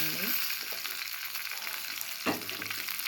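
Karonda berries frying in a pan for a pickle, a steady close crackling sizzle with a brief burst of stirring or clatter near the end, no talking.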